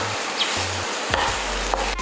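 Mushrooms and three chilies soften in a pan for cheese ema datshi, with a steady, moderate sizzle and a few faint scrapes and knocks, and no speech.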